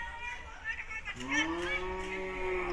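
At the Hazratpur Qurbani cattle market, a single cow lets out a long, low, drawn-out moo nearby, rising over the murmur of the crowd.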